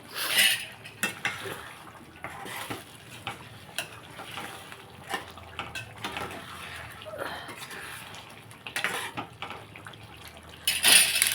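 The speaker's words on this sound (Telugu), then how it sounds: "ఇప్పుడు చింతపండు పులుసు వేసుకుంటే" Tamarind extract hits hot oil for a prawn and taro root curry, giving a soft sizzle with stirring and clinks of a spoon against a pot, fairly quiet and steady, with a louder clatter at the end.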